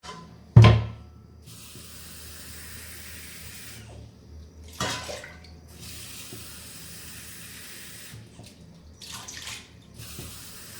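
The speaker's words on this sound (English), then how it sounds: "I'm just gonna go over here to the sink and pick through them a little bit and rinse them all off" Brown lentils are rinsed under a running kitchen sink tap, with a steady close hiss of water, a loud splash at the start and a few surges as the flow shifts.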